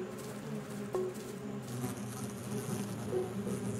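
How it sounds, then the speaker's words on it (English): Steady buzzing of hornets, droning continuously at moderate volume with a few brief clicks. "Those big ones aren't bees, they're hornets."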